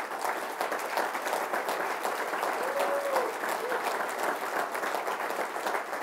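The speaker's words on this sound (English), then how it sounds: "I think that James Harris and Doug Williams deserve the round of applause" An audience at a Black College Football Hall of Fame ceremony gives sustained applause, an even, moderately distant roar of many hands clapping, with faint crowd voices mixed in.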